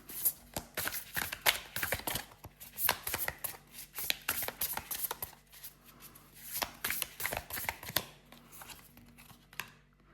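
Tarot and oracle cards being shuffled and drawn, giving a run of quick, crisp riffling and slapping bursts close by, steady throughout with no talking.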